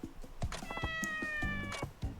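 A cat in Like a Dragon: Ishin! meows a few times in quick succession, close and clear, with short, bright calls over light background game sound.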